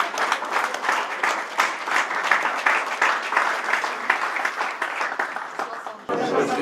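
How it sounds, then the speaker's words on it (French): An audience at a Chinese-Moroccan Olympic exhibition event in Rabat claps in steady, lively applause for about six seconds before it thins out abruptly. "On applaudit, hein?"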